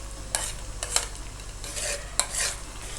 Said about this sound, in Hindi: इसको हमने 2-3 मिनट अच्छी तरह से फ्राई कर लिया है